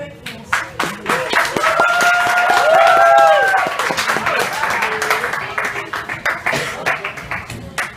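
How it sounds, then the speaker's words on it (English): A college training-program audience claps their hands in a burst of applause that swells and then thins into scattered individual claps. Voices and cheering rise over it in the middle. "We all just should clap your hands."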